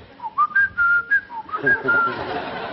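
A person whistles a bright, warbling run of short notes, imitating a blackbird's song, close and fairly loud with slight background noise underneath.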